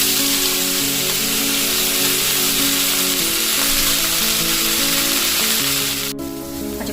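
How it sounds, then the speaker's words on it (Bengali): Pumpkin green stalks fry in a pan with a loud, steady sizzle that holds throughout, ending with a single sharp click near the close. "ডাঁটাগুলোকে ভাজবো এবং ডাঁটার সঙ্গে শক্ত সবজিগুলো দেবো"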